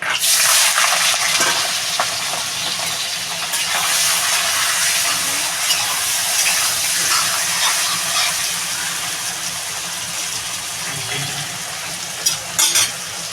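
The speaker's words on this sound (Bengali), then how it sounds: "বন্ধুরা তেলটা গরম হয়ে গেছে আমি এই চিংড়ি মাছটা ঢেলে দেবো" Prawns poured into hot oil fry with a loud, dense, continuous sizzle and hiss that holds steady, with occasional stirring clinks near the end.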